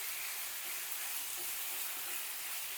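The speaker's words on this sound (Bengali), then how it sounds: "চিকেনটা দিয়ে এবার ভালো করে আমি তেলের সাথে একটু মিশিয়ে নেব।" Chicken pieces frying in hot oil over a high flame as they are mixed in the pan, giving a dense, even hiss of sizzling at moderate level that carries on without a break and without any talking.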